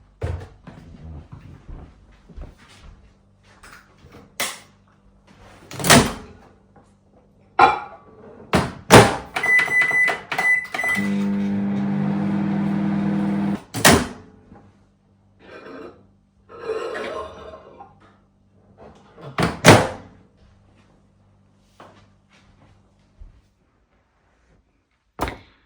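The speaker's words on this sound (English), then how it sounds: "microwave." A household microwave oven in use: door clunks open and shut, keypad beeps, then a steady humming run of a few seconds, followed by more door thuds and scattered kitchen knocks in a quiet room.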